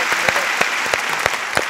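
A studio audience applauds on a 90s-night music television show, a brief burst of dense clapping with a few sharper claps standing out.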